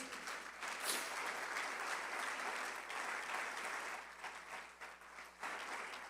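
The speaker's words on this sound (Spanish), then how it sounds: "¿Le puedes dar un fuerte aplauso al Señor Jesús?" A church congregation gives a strong round of applause, with dense, sustained clapping filling the room at moderate distance and no talk over it.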